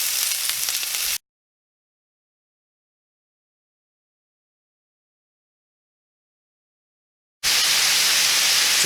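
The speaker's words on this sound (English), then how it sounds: "So we got the sausage put in here. This thing is cooking now." Italian sausage fries in a pan with a steady, close hiss of sizzling that stops for several seconds of silence before resuming just as loud.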